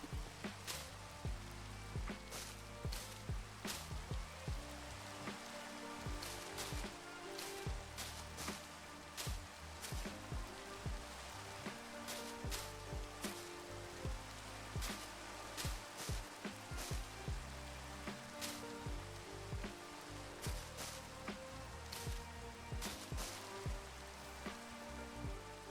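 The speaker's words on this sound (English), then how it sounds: "They said as it rained directly onto their parade." Steady rain patters across a surface in a board game arena video game, a dense continuous hiss with scattered sharper drop ticks, moderately loud and constant throughout with no voices.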